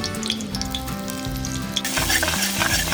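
Refined oil and butter sizzle loudly in a pan, a steady close crackle that grows busier and brighter toward the end.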